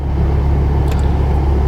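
A Volkswagen with a 2.5 engine and new aftermarket engine and transmission mounts drives along, a steady low engine drone and road rumble heard from inside the cabin, loud and unbroken.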